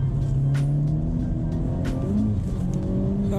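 A Honda Civic Type-R with a PRL Motorsports flex fuel kit running E85 accelerates on damp roads, heard from inside as a steady droning engine note that rises gradually in pitch, with light road noise and no talking.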